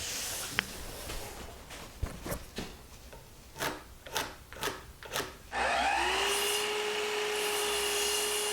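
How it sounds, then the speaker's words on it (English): A power drill bores holes up into the underside of a torsion-box tool cart table top. Several knocks and short bursts are followed by a steady, sustained motor whine that runs to the end. "I'm going to drill some holes up underneath in the corners and in the midpoints and secure this down."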